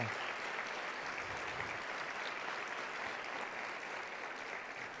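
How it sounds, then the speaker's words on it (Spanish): Steady crowd applause at a church service fills the space, a continuous wash of clapping at moderate level without any voices standing out. "y fuerte ese aplauso al Señor"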